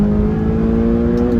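A McLaren 570GT engine revs hard toward 8,500 rpm on a track, a loud, steady, rising whine that fills the cabin with no speech over it.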